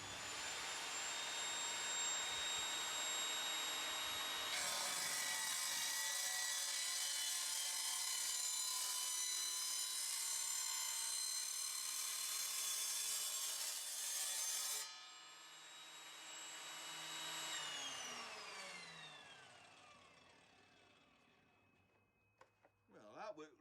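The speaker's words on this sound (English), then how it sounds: "run it through the saw" An Evolution Rage 5S saw cutting through a clamped metal cylinder for scrap: a loud whining motor with a harsh grinding cut that stops at about fifteen seconds, then the blade spins down with a falling whine.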